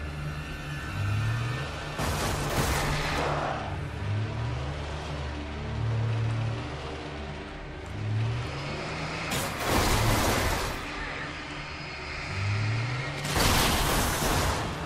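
Worn-out car driving in the video game Alan Wake, a continuous low engine rumble with rhythmic pulsing, interrupted by three loud bursts of crashing noise.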